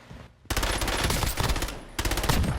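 Full-auto SMG fire in Call of Duty Warzone, two dense bursts of rapid, loud shots separated by a brief pause, heard up close with no talk.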